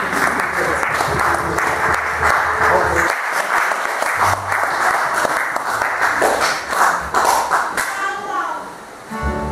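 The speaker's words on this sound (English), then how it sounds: "Let's clap for them." A church congregation claps in sustained, dense applause that stays fairly even throughout, with voices and a child's speech mixed in as the clapping slowly tapers toward the end.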